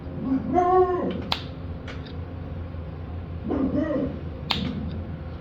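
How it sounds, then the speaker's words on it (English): A dog growls and barks in two loud, close bursts a few seconds apart, with clicks and a low background rumble between them. "go lay down and continue to growl and bark."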